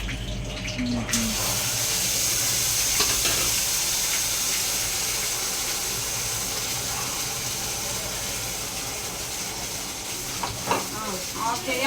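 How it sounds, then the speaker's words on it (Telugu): Garam masala and paste for a chicken curry sizzle in hot oil, giving a loud, steady, close hiss that lasts throughout with small crackles. "ఆయిల్ వేడవుతుంది, అందులో పుల్లగరం మసాలా వేసుకోవాలి. దాని తర్వాత ఇందాక పేస్ట్ వేసుకున్న పేస్ట్ వేసుకోవాలి."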